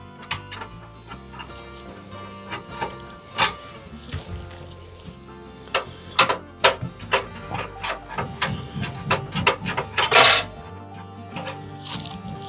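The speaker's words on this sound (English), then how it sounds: "So I'm going to take these 2 screws out." Screws are removed from a PC case in a series of sharp metallic clicks, ticks and small clatters at an irregular pace, fairly faint and close.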